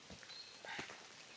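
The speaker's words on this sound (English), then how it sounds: "It rained all night," Steady rain falls on a campground, making a soft continuous patter with scattered drops, faint and even throughout.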